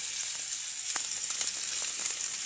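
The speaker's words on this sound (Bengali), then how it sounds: "দিয়ে দিচ্ছি পেঁয়াজ কষিগুলো" Sliced onions hitting hot oil with dry red chilli and five-spice seeds in a pan, a bright continuous sizzle with a few sharp crackles, close and steady.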